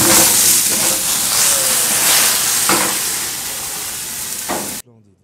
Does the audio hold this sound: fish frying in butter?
yes